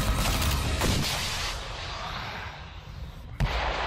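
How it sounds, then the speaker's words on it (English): A tank and a grenade launcher firing beside Russian paratroopers in combat, a loud continuous rumble of blasts with one sharp close bang near the end. "when the tank and the grenade launcher open up alongside you"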